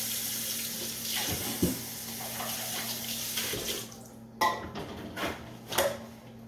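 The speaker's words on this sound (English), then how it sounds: "I'm going to get my measuring device here. Wash it up a little bit." A measuring cup is rinsed under a running kitchen tap, with a continuous rush of water, brief clinks and shifts as the cup is handled, and a break when the flow is interrupted.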